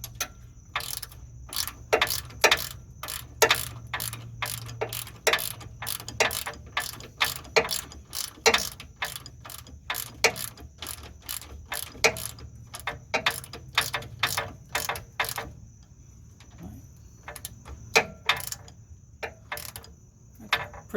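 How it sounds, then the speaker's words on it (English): A 17mm socket on a ratchet loosening a rear upper control arm bolt on a 2003–2009 Toyota 4Runner, with a long run of crisp, close, regular clicks and short pauses between strokes. "So I just have a 17mm socket on a ratchet, and then I have the 19mm to hold this nut."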